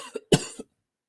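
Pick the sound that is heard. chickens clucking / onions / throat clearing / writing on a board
throat clearing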